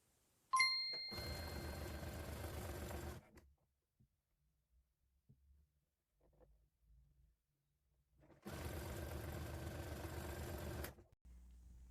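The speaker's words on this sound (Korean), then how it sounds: "그러면 재봉틀로 박아주고 한번 입어볼게요" Domestic sewing machine stitching a ribbed cuff onto a garment, two steady whirring runs of about two and three seconds separated by quiet handling sounds, with a short ding at the start.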